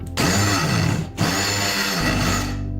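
Steel tube being deburred with a countersink and a file, two rough grinding, scraping passes separated by a brief pause, close and fairly loud.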